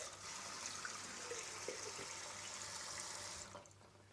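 Water running steadily from a tap to rinse quinoa, a faint, continuous hiss and splash that fades out at the end, with no voices.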